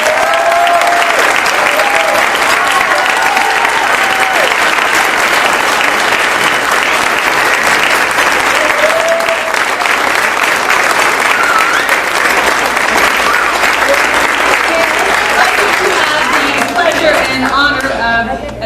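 Sustained, loud applause from a school district audience honoring Teacher of the Year candidates, dense clapping filling the room without a break and tapering only at the very end.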